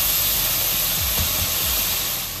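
Chopped tomatoes frying in a hot pan make a dense, even hiss and sizzle close up, with a few faint scraping strokes partway through and no voices.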